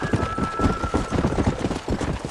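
Horse hooves in the Red Dead Redemption video game clip-clop at a steady riding pace, close and continuous, with a faint whinny mixed in.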